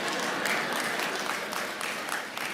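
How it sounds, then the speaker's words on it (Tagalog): Audience applause during a sermon in a Filipino church setting, a steady dense wash of clapping that holds at moderate level for the whole stretch, with a few louder claps standing out. "kailangan pa palang ilabas si Maricel para kayo pumalakpak dyan."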